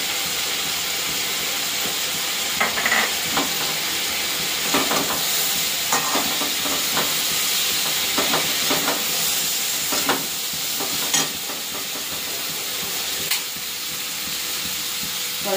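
Cumin seeds sizzling in hot oil in a home kitchen pan, a steady bright hiss with scattered crackles and pops, loud and close, with no talking.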